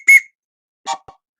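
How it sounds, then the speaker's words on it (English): A whistle tooted in short blasts: one clear, bright toot followed about 0.7 seconds later by a shorter double toot. It is loud and close, with silence between the blasts and no talking. "Here, I'll give you a toot on the whistle too."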